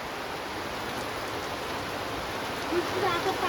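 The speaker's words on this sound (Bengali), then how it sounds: "দেখো সেই বৃষ্টি শুরু হয়ে গেছে" Steady rain falls outdoors on a village road, a constant wash of hiss with no distinct drops, swelling slightly near the end.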